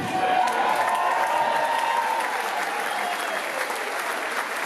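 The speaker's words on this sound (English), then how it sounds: "just a huge, massive round of applause" Concert audience applause with cheering after a rock band's introductions, a dense steady roar of many hands clapping that holds loud throughout, with faint shouts mixed in.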